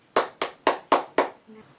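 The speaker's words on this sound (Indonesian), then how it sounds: "kita beri tepuk tangan ya untuk para petani sebagai ucapan kita kepada mereka" Five sharp, evenly spaced hand claps ring out in a primary school classroom lesson as applause for farmers, close and clear, then a faint tone at the end.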